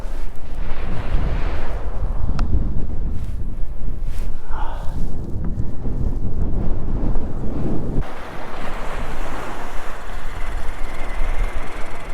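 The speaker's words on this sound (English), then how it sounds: "15 knot breeze, down to about 10 maybe." Loud, constant wind of about 10 to 15 knots buffets the microphone over rushing water at sea aboard a fishing boat, with brief knocks and a steady roar throughout.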